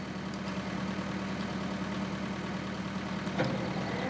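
A tractor engine idles in Farming Simulator 2013, a steady low mechanical drone with a faint, even pulse running unbroken throughout.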